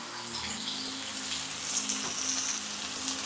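Kandai fish frying in coconut oil at a seafood restaurant in Manipal, a dense, steady hiss of hot oil with a slight rise in intensity midway, heard up close with background hum.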